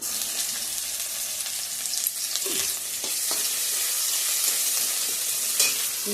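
Onion, garlic, bay leaf and cumin sizzling in hot oil in a home kitchen, a steady loud frying hiss with occasional crackles and a few utensil clinks, no voices.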